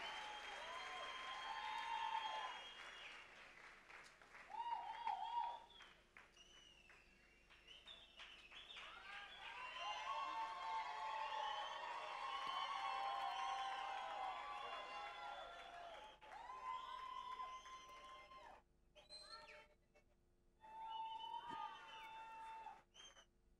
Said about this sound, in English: Let's continue clapping hands for them.